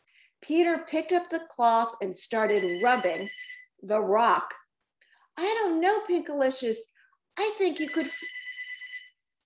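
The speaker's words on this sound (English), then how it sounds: "I think that's my phone ringing." A telephone ringing in short bursts under a woman reading a children's story aloud, her voice louder and nearly continuous.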